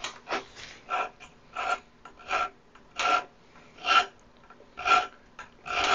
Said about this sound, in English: you're scratching my bars.